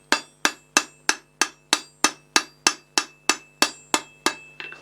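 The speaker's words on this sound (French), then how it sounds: "Avec l'autre partie du marteau, je viens écraser les bords avec un angle." Roughly a dozen steady, ringing hammer blows strike a metal latch part, flattening its edges at an angle with the other face of the hammer during blacksmith forging of a sliding gate bolt; loud and close with no talk.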